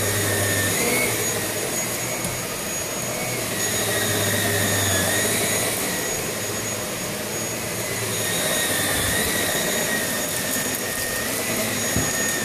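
A Samsung bagless canister vacuum cleaner runs on high pile carpet with a loud, steady airflow roar and high whine. The pitch dips slightly as the head moves, and no one speaks.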